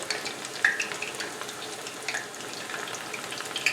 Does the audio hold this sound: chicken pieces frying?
yes